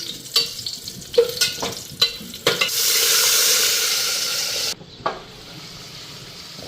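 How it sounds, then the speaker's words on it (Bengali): Dry chilies, garlic and nigella seeds sizzle in hot oil with clattering stirs, a steady loud frying hiss rising mid-way before dropping off, with a few sharp utensil knocks; no talking. "এখানে শুকনা লঙ্কা, রসুন আর কালো জিরা সম্বাদ দিচ্ছি"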